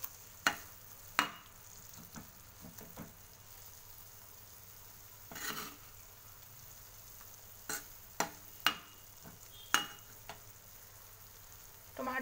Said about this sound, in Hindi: टमाटो फ्राई करी हूँ मैं।